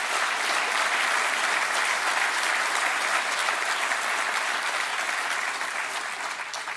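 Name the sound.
audience applause for President Dennis Murray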